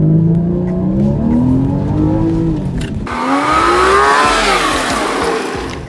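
A Porsche Cayman S launches hard from 0 to 60, its engine note climbing loudly through the gears with a shift midway and a rising rush of road and wind noise, no voices.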